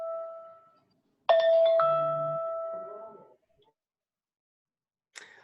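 Bell rung as a time signal at a county commissioner candidate environmental forum: the tail of one ring fades out, then a clear bright strike rings and decays slowly over two seconds, followed by a brief faint sound.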